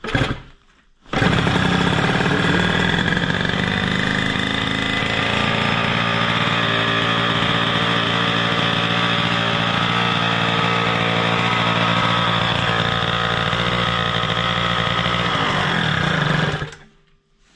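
Restored Derbi 50cc moped engine catching at once and running at a loud, steady buzzing idle nearby for about fifteen seconds before cutting off.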